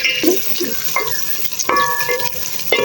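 Onions sizzle and fry in hot ghee in a village kitchen, a loud crackling sizzle with repeated sharp stirring scrapes of a utensil against the pot, no talking.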